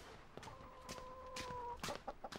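Hens cluck and squawk close by, a drawn-out call followed by a burst of quick, choppy clucks over faint background noise.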